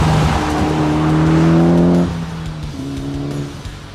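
Tuned 2013 Mitsubishi Evo X engine droning loudly through a corner, its pitch shifting as the car changes gear, with faint tire squeal alongside and no talking.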